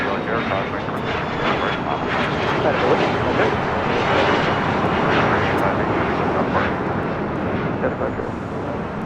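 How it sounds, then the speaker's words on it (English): Embraer Legacy 500 business jet, Air Sprint 858, taking off from LAX toward Henderson Executive Airport: a broad, sustained engine roar heard from a distance, with faint voices underneath. "this is Air Sprint 858, Embraer Legacy 500, taking off to Henderson Executive Airport"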